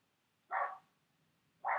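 Two short barks from a dog some distance off, separated by about a second of quiet, fairly faint.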